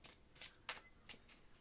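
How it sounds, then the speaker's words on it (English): Tarot cards are shuffled quietly by hand at close range, a handful of quick, crisp riffling bursts in a near-silent room. "I'm just kind of shuffling for fun now."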